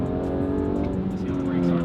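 A manual BMW E46 M3's engine pulls hard under acceleration, heard from inside the car as a loud, continuous note that climbs steadily in pitch.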